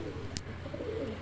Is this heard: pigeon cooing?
yes